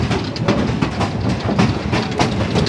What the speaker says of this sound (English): Are you riding on a train?